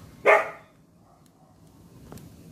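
A single sharp dog bark rings out nearby, followed by quiet background hum and a faint second yelp.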